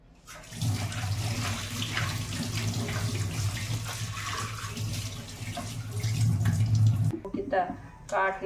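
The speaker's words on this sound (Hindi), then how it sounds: "तो 2 बार तो अब काटने के बाद भी धो लिया मैंने इसको, और दूसरी वाली को धो लेती हूँ।" Tap water runs steadily into a kitchen sink as chopped vegetables are rinsed for a home-cooked dish, a close, continuous gush that swells near the end before stopping abruptly, with a few clattering handling sounds after.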